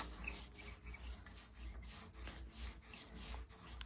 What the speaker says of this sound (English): just take your foam roller and go over that area again